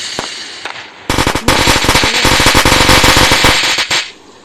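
Rapid crackling bursts of a tiger firecracker string going off weakly in a video game, a dense rattling volley lasting a few seconds before cutting out.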